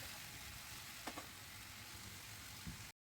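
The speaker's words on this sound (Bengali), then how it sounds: "হাই ফ্লেমে আমি কিছুক্ষণ ভেজে নেব।" Chicken frying on a high flame, a faint steady sizzle with a couple of light stirring clicks, no voices.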